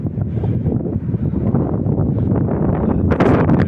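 Wind buffeting a microphone outdoors at a fortress in Italy, a low rumbling roar that stays steady and grows a bit gustier toward the end.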